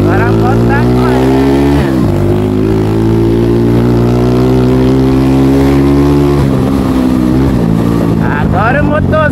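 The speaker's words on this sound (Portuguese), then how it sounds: "Agora a moto está correndo." A motorcycle engine with a worn drive chain and sprocket kit runs loud and close, a steady droning hum that dips and rises as it revs, with someone talking over it.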